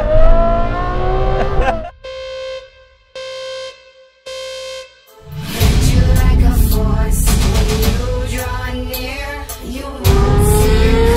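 A Ferrari 812 Superfast makes loud, close bursts of engine sound: a rising rev, then a few short choppy blips with gaps, followed by a sustained high-pitched roar that swells again near the end.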